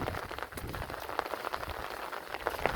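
Rain patters steadily on a surface nearby, a constant hiss with scattered heavier drops.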